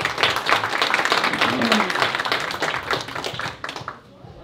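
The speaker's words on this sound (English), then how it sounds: "Nini, round of applause, please." An audience at a showcase event claps enthusiastically, with voices mixed in, before the applause fades out near the end.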